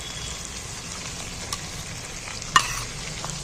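Onions fry with sour yogurt for chicken curry, making a steady, close sizzle while a spoon stirs and scrapes the pan, with one distinct sharp clack near the end.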